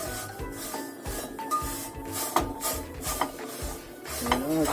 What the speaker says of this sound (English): I'm drying it with a duster